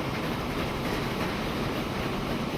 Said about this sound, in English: the train is slowly starting to pick up